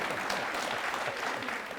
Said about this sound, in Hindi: स्वागत है, धन्यवाद, तालियां।